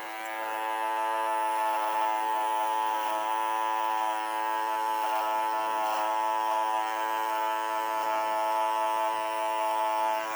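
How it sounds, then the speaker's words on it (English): An electric beard clipper buzzes steadily and close for about ten seconds while trimming a beard, with a constant tonal hum and slight shifts as it moves over the hair. "Grabbing my clipper."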